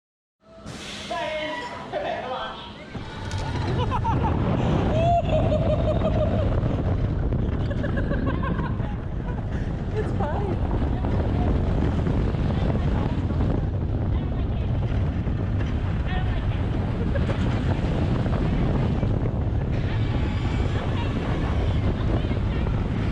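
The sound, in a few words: Pony Express roller coaster ride POV at Knott's Berry Farm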